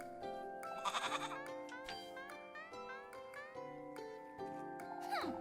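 A goat bleats repeatedly in the video game Little Goody Two Shoes, a wavering, nasal cry over steady game music, up close and continuous with no talk.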